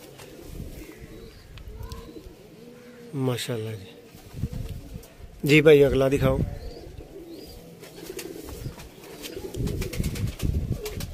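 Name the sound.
pigeons cooing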